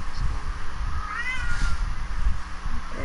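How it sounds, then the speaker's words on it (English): A cat meowing close by, a drawn-out rising and falling meow in the middle over a low rumbling background, with a few softer sounds around it. "I hate this cat."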